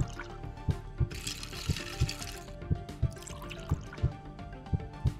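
Mineral water poured into a potion in the video game Escape Academy, a soft liquid trickle with regular dripping plinks, faint and close, alone.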